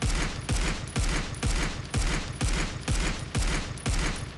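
An SVD auto sniper rifle in the mobile shooter Critical Ops fires nine loud, evenly paced shots about half a second apart, each a sharp blast with a short ringing tail, with no voice over it.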